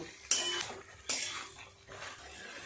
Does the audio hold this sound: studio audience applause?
no